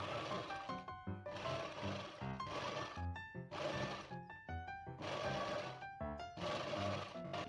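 Sewing machine stitching fabric for scrunchies in rhythmic mechanical runs of rapid needle chatter, separated by short pauses, close and continuous.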